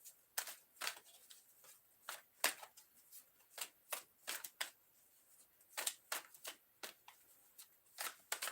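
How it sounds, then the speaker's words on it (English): Tarot cards are shuffled in a quiet room, a long series of crisp, riffling snaps and slides repeating at an uneven rhythm, close and alone without speech. "Let's do another shuffle."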